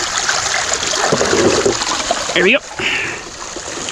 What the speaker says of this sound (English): I'm going to lift the entire sluice box out of the river.